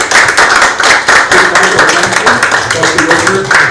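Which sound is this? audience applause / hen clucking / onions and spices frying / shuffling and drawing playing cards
audience applause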